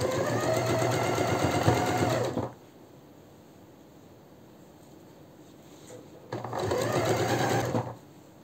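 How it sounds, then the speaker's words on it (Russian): A sewing machine stitches a casing on a summer jumpsuit in two steady runs, a close, even whirring that stops for a few quiet seconds between the bursts. "Укладываем шовчик на нашу кулисочку и строчим прям в строчку."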